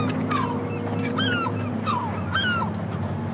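Seabirds at Fort Cigogne, a nesting colony during laying season, give several short, honking calls over a constant low rumble of background noise.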